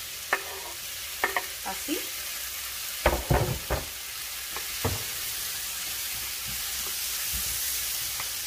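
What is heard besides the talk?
onion and tomato frying in a pan for chicken fajitas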